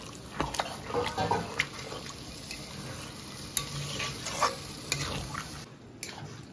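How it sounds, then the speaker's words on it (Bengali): Dal for mutton keema tadka is cooked down with small splashes of water, heard as soft, uneven sizzling and wet bubbling broken by sharp stirring clatters and scrapes at close range, with no voices. "এবারে কিন্তু অল্প অল্প জল দিয়ে দিয়ে আমি ডালটাকে কষাতে থাকবো।"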